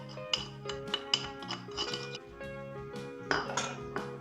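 Cocoa powder stirred with a spoon in a small bowl, quick bright clinks and scrapes of metal against the bowl in an uneven rhythm, close and fairly quiet.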